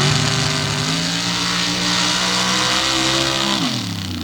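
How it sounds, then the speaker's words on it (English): A modified race car with a big John Conkle race motor roars loudly at close range on a speed track, a sustained high engine howl that holds its pitch before dropping as the car lifts, with no talk. "So we'll see what this big John Conkle race motor can put into the track."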